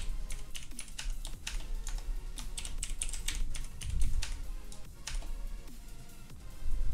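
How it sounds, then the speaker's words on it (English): A passphrase is typed on a computer keyboard in quick, uneven bursts of close key clicks, with a few heavier thumps among them and no speech. "type in our passphrase here"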